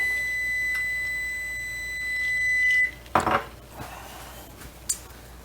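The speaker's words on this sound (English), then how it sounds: "timer's going off again" A kitchen timer rings with a steady electronic tone while banana bread bakes in the oven, then cuts off and is followed by a few clattering clinks of kitchen utensils.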